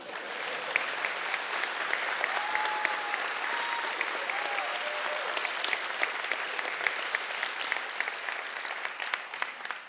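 Audience applause at a university memorial celebration held in a lobby, a steady, continuous wash of clapping from a gathered crowd lasting several seconds, with faint voices beneath.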